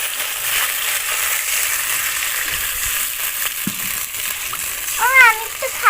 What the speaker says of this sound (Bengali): এর মধ্যে আমি জল ঢেলে দেবো।